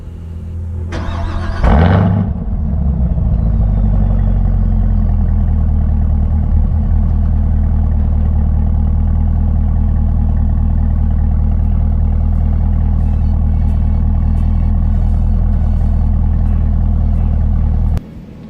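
A 2018 Chevrolet Camaro ZL1 starts with a brief loud burst, then settles into a steady, deep engine rumble that holds while driving, close and loud throughout, ending abruptly.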